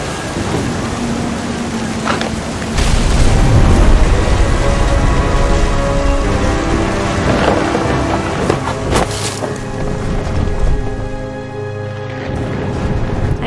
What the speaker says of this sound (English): Thunder sounded much too close and full of angry power